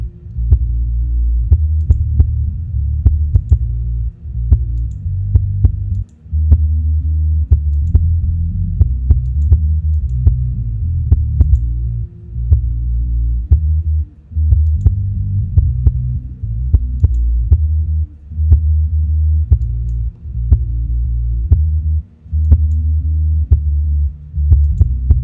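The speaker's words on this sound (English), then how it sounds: "I want to hear where the fundamental's sitting on the kick drum before I start boosting more bottom." Soloed kick drum track from a mix of a song: steady, deep thumping hits in a regular pulse, booming and close with a short rumble between beats, alone without vocals or other instruments.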